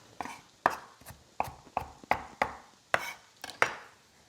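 A knife chops food on a cutting board for an Indian chickpea and potato wrap, with about a dozen crisp, close taps at a steady, slightly uneven rhythm and no talk.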